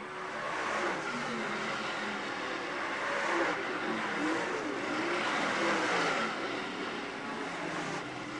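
Late model race cars roar as a pack around the dirt oval at Utica Rome Speedway, a continuous distant engine drone swelling and fading as they pass through the turns.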